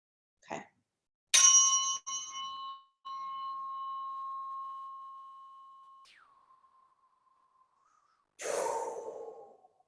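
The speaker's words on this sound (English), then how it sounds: "you're gonna hear me breathing out" A person breathes out slowly in a quiet room, with a few soft, breathy exhales separated by silence, alongside a steady high electronic-sounding tone that bends downward and fades.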